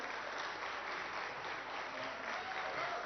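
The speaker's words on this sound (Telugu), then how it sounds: "ఈ చప్పట్లు ప్రోటోకాల్కి కాదు సార్, ప్రజల కోసం సంకల్పంతో పనిచేసే మీ నాయకత్వానికి" An audience claps steadily at an officers' training event in Telangana, a soft, continuous patter of many hands heard from some distance, with no voices over it.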